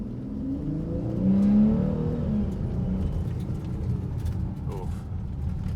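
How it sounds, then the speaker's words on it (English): A car with an aftermarket throttle controller is floored from low speed, the engine drone swelling and rising in pitch as it pulls hard, heard from inside the cabin with a steady road rumble underneath. "I'm gonna floor it, and let's just see exactly how quick we get up to speed."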